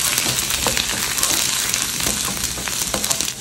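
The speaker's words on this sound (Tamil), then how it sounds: "எண்ணெயில் ஃப்ரை பண்ணிக்கலாம்." Garlic and ginger fry in oil in a pan for Gobi Manchurian, a dense continuous crackling sizzle with scattered pops and stirring scrapes, close and steady, with no talking.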